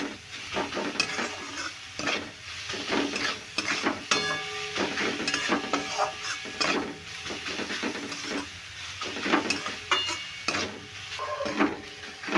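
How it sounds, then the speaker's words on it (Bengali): Chopped carrots are stir-fried with spices in a pan for cauliflower paratha filling, with a continuous busy sizzle and frequent scraping, clinking stirs of a utensil against the pan, close and steady throughout. "এবার মশলার সঙ্গে ভালো করে গাজরগুলো আমি কষিয়ে নেব।"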